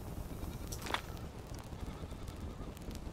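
A goat in a survival crafting video game gives a single short bleat over a low rumbling game ambience, followed by faint clicks and taps.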